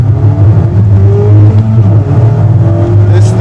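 2016 Mazda Miata ND engine droning loudly from inside the car while driving, a steady low throaty hum whose pitch creeps upward as the revs build, with no break.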